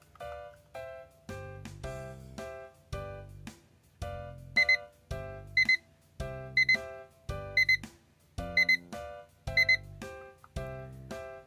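DAISO 100-yen kitchen timer with clock sounding its alarm, a close, clear electronic beep pattern repeating in regular groups of quick chirps about once a second, alone in a quiet room.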